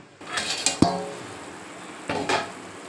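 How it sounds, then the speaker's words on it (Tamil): Metallic clatter as a plate is set over a pot of Kerala-style fish curry: a couple of sharp clinks, a pause, then a brief scraping rattle. "இப்போது தட்டு போட்டு மூடிக்குங்க"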